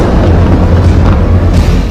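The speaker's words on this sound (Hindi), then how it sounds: "हिजबुल्लाह का दूसरा धमाका" A loud, sustained explosive roar from a Hezbollah attack on Israel, with heavy low rumble, booming continuously for a couple of seconds and close up.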